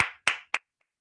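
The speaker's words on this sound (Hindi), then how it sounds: "मैं योगेश सर के लिए चाहूंगा एक जोरदार तालियां होनी चाहिए" Three sharp hand claps, close and clear, come in quick succession and fade fast into silence, applause on a Zoom training call.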